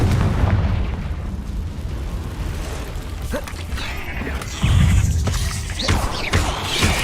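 Confringo explosive spell blasts in the Hogwarts Legacy video game, heavy booming impacts with crashing debris and rumbling low end, loud and close, with a player shouting spell names over the action.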